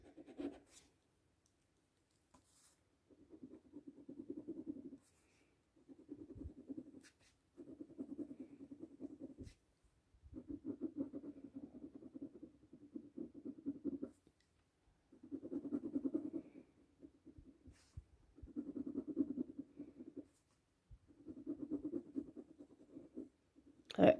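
Pencil strokes scratch across paper during a cubist-style drawing, in repeated bursts of steady rubbing and scratching a few seconds long, separated by short pauses, close and quiet with no talking.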